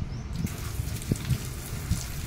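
A close, steady gush of water spraying from a nozzle, with a low rushing rumble and occasional splashy bursts.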